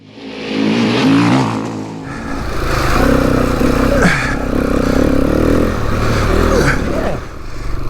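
A KTM EXC250F Six Days dirt bike runs along off-road trails, its engine droning loudly and steadily with rising and falling revs throughout, close to the rider.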